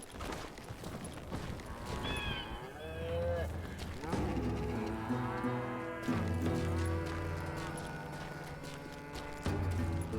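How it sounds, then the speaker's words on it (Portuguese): Cattle moo repeatedly in a Wild West game setting, several long, drawn-out calls from fairly close by, overlapping one another against faint ambient background and a few soft hoof-like clops. "Passando fome essas vacas aqui, hein?"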